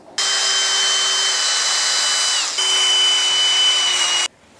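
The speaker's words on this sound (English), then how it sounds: "I can drill some holes through here" A power drill whirs loudly and steadily while drilling holes through wood for a fence rail, pausing briefly mid-way and then resuming before stopping abruptly; no talking.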